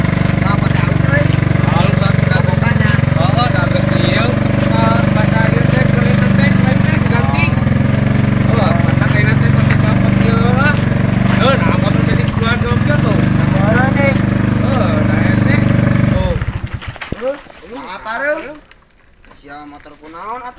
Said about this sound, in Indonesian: Sia motor kunaon atuh?